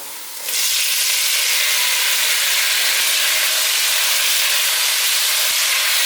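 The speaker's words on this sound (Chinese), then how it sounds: "先不停的拌炒。 炒到番茄变软" Tomatoes hit hot oil in a wok with minced ginger and chopped coriander stems, and a loud, steady frying sizzle bursts in after a brief quiet start and keeps hissing throughout, with no talking.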